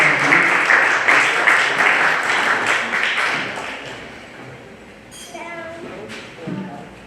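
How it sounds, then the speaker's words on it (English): Audience applause at a celebration of life for a bass player, dense clapping at first that thins out and trails off into scattered claps and room noise, with faint voices toward the end. "So let's give a warm applause."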